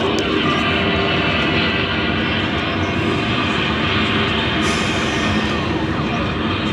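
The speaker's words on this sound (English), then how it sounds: "Stand by for main engine test" Loud, steady rocket main engine test sound effect played from a button on a LEGOLAND space exhibit, a dense continuous roar that holds at full strength for several seconds.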